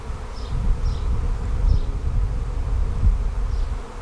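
A swarm of honey bees buzzes loudly and continuously close by, a dense droning hum with a few higher individual whines passing through.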